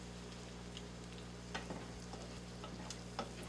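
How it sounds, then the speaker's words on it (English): Shrimp coated in Mexican seasoning stirred in a skillet: a steady faint sizzle under a low electrical hum, with a few soft scrapes and clicks from the utensil, quiet and close. "Stirring it well will make sure that it's got an even coat over everything."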